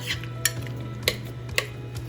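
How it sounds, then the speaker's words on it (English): A utensil stirs beef broth into a dinner in a pot, giving three sharp clinks of metal against the pot spaced about half a second apart over a low steady hum, close and fairly quiet. "You don't have to give it a little stir, but I do like to do that just to kind of incorporate everything here"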